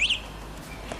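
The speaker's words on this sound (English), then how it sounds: "oh look, see, that's the alarm that's going off" An electric bike's alarm, on a Wingbikes Freedom Fatty 2 fat-tire e-bike, gives a brief high electronic chirp at the very start, then fades under steady low background noise.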